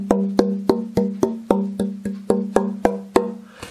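The unfinished, rough-carved back of a mandolin is tapped about ten times in an even rhythm, each knock ringing with a clear resonant tone that decays quickly, close and alone.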